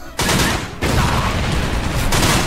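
Video game grenade blast in a chaotic shooter: a sustained, dense roar of explosion and gunfire noise filling the whole span, loud and close, with a brief drop before it swells again.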